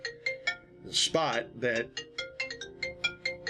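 A phone ringtone chimes in a steady repeating pattern of short bright tones, fairly close, with a man's brief speech cutting in partway through.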